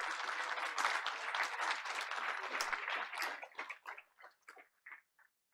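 Award winners at a school board of education meeting draw a round of audience applause, a dense burst of clapping that thins out and fades to a few scattered claps by the end.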